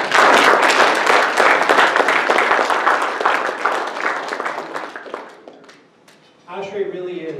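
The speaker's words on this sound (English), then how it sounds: "Please join me in a round of applause for all of the volunteers." An audience claps for volunteers at a May 2018 ASHRAE chapter meeting, a dense round of applause that fades out near the end before a voice begins talking.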